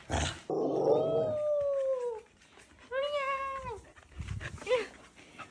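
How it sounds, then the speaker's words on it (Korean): A dog indoors at home letting out two long, drawn-out howling cries and a short third one, close and loud with brief pauses between. "짖지 마라."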